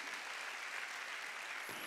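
A church congregation at a Sunday worship service claps in dense, continuous applause that fills the room evenly from start to finish, with no voices above it.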